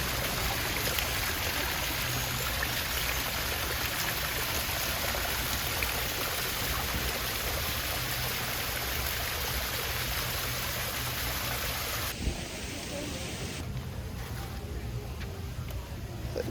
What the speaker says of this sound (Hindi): जंगल में चलते चलते आगे पानी की आवाज़ और आ रही है